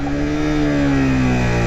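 A Suzuki GSX-R150 motorcycle engine drops in revs in first gear under engine braking, a loud, close, steady drone with its pitch gliding slowly downward.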